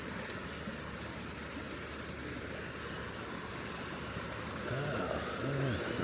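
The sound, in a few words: creek water running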